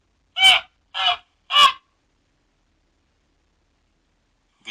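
A goose gives three short, loud honks in quick succession, close by and alone, followed by silence and a faint start of another call at the very end.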